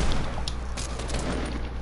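Rapid shotgun blasts ring out in an online shooter match, a dense burst of overlapping gunfire with cracking reports over a steady low rumble, loud and continuous with no talk.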